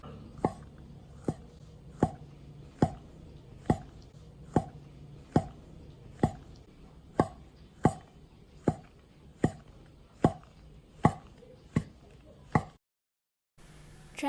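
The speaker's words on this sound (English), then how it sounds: "For the shiitake mushrooms, we're just going to remove the stems. And then we're going to slice it thinly." A knife slices shiitake mushrooms thinly on a board in about seventeen crisp, evenly spaced cuts under a faint steady hum, then a short silence follows.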